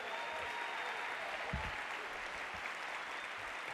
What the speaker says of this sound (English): one more round of applause for Tamika